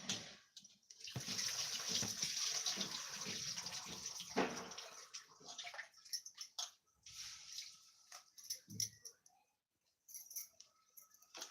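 Rice being washed in water two or three times in a home kitchen, a steady swishing, splashing wash that fades into scattered drips and small clinks, with no voices.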